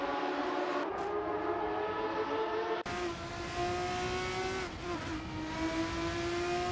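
Formula 3 race cars at full speed at COTA in a racing game: a loud, sustained high engine whine holding a steady pitch, with a sharp cut partway through into another car's screaming engine, rising slightly as it keeps accelerating.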